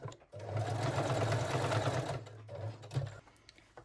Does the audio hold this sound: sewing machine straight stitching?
yes